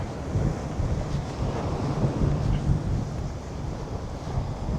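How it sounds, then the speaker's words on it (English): Steady surf washes onto a beach beside a walkway in southern Vietnam, a continuous broadband rush mixed with wind buffeting the microphone, with no talking. "There's a little walkway here. If you want to walk along the beach here."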